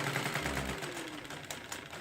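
A repaired 1968 Pagoda household sewing machine runs a stitching test, a brief steady mechanical whir with rapid needle clatter, close and alone.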